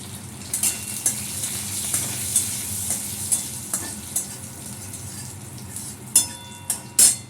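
Cumin, panch phoron and dried red chillies frying in hot oil in a kadai: a loud continuous sizzle and crackle with repeated spatula taps and scrapes, growing busier toward the end, with no voices.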